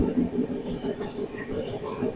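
A WAG-9HC electric locomotive hauling a train at an Indian railway yard, with a steady low rumble and rolling rail noise that continues throughout, heard close by with faint talk mixed in.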